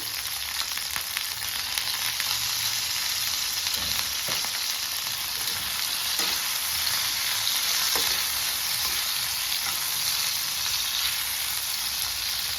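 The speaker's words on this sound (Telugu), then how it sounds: "టమాటాలు ఫ్రై చేసుకుందాము." Tomatoes fry with salt in a pan, giving an even, moderate sizzle that holds steady throughout, with a few soft stirring ticks.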